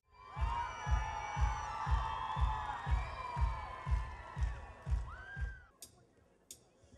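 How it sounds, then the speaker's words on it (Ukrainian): A crowd at a Victory Day outdoor concert in Zmiiv, Ukraine, cheers and shouts over a strong, steady, regular beat that stops abruptly near the end, leaving a few scattered whoops. "зміївчани бурхливими оплесками зустрічали знаменитість"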